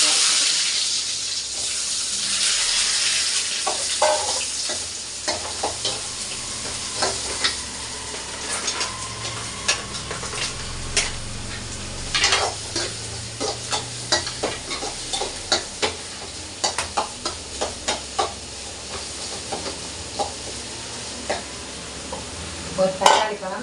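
Onion fries in oil with mustard seeds and curry leaves in a home kitchen, a soft steady sizzle broken by frequent scraping stirs and light clinks, close and moderate.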